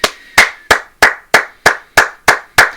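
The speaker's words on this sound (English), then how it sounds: "I applaud you" A single person claps their hands nine times in a steady, fairly quick rhythm, each clap sharp, close and loud, with no talking.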